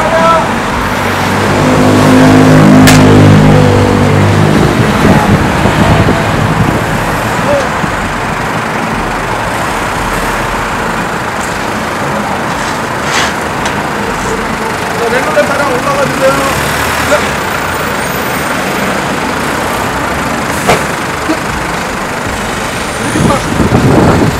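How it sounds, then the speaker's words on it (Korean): A Jeep Wrangler rumbles and rolls slowly over a power pack battery unit outdoors, its engine droning loudly close by amid crunching ground noise, while people talk over it. "랭글러 차량이 밟고 올라갔습니다."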